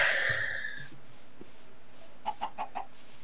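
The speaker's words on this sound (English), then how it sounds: "I got some chickens," Chickens in the Minecraft video game give a quick run of four soft, clucking blips near the end, after a brief high tone at the start.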